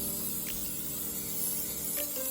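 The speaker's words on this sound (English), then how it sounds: "Vegetable oil spray." A steady, close aerosol hiss of vegetable oil cooking spray on a cookie sheet runs throughout, sprayed continuously, with a faint hum beneath.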